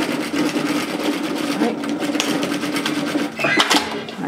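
A sewing machine stitching the top edge of a pleated peplum top runs in a fast, close mechanical chatter, its rapid needle beats continuous with a brief change in pace near the end.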